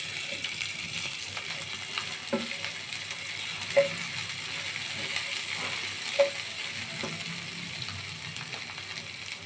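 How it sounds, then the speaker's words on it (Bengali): Chopped onion and green chillies fry in a pan with garlic paste, giving a low, steady sizzle broken by a few sharp utensil clicks, with no one speaking. "দিয়ে দিব পেঁয়াজ কুচি, দিয়ে দিব কাঁচামরিচ, দিয়ে আমি সুন্দর করে ভেজে নিব"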